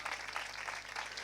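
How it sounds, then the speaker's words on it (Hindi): A church congregation at a Sunday sermon gives a short burst of steady, dense clapping, heard at moderate volume without any talk. "ज़ोरदार तालियां बजाएं"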